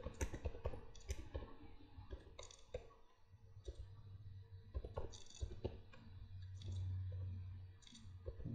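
Computer keyboard being typed on while entering HTML code in an online editor, irregular quiet clicks and taps in short bursts, close and faint.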